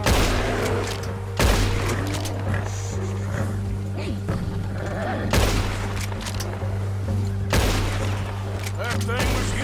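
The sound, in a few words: gunshots while hunting in the video game Red Dead Redemption 2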